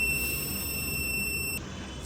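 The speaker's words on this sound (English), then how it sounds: "it takes it as a medical emergency and the buzzer goes off" Seizure alert device buzzer sounding a steady high-pitched electronic tone that holds for over a second and a half, then cuts off, close and clear over a faint hiss.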